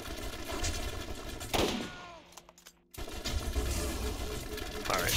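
Video game gunfire, dense bursts of rapid shots layered over game music, breaking off briefly into a near-silent gap before the loud firing resumes and continues to the end.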